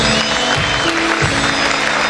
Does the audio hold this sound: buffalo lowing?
no